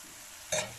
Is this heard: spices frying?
yes